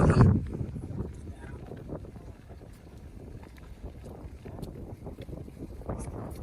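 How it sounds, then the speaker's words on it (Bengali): A boat crossing a river in the haor wetlands of Kishoreganj, carrying a steady low rumble with wind buffeting the microphone. People talk nearby over it throughout. "এই তো নৌকা এই নৌকা দিয়ে আমরা গ্রামে"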